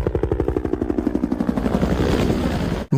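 A helicopter in an action film, its rotor chopping in a steady rapid pulse that gives way to a dense engine roar, loud and close, ending in an abrupt cut.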